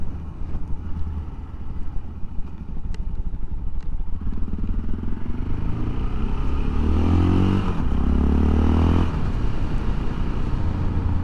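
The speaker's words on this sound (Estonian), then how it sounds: "Seal on räigelt tsikleid ka nagu väljas ja sees töökoda on tsikleid täis" Motorcycle engines idle and rev at a motorcycle repair workshop in Pola de Laviana, Spain, a steady rough drone that rises and grows louder toward the end before dropping off, with no one talking.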